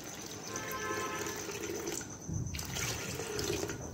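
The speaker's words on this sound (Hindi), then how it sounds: "इतना पानी डालूंगी।" Water is poured from a vessel into a pot of black chickpeas for cooking, a steady splashing, trickling fill heard up close and alone over a few seconds.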